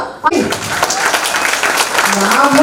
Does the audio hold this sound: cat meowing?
no